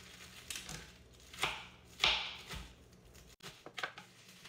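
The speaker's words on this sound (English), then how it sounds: "I'm going to cut up my spinach as well" A knife cuts through soft, watercress-like spinach on a board in a few separate, quiet chopping strokes, irregularly spaced, with no talking.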